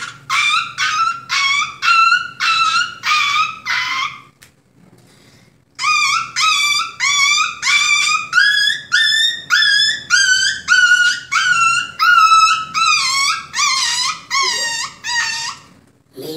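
A voice imitating dogs, with a rapid run of loud, close yelping barks and howl-like cries. It breaks off briefly, then resumes as another long burst with no other sounds.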